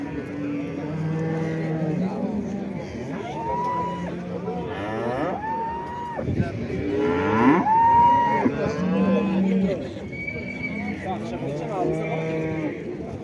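Holstein dairy cows moo repeatedly at a livestock market in Karakol, long drawn-out lowing calls overlapping one another, with people talking nearby throughout.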